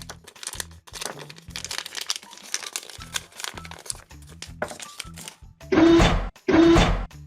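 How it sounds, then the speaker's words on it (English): A paper bag holding toy accessories crinkles softly while being handled, then tears in two loud, sharp ripping bursts near the end. "I ripped this paper bag"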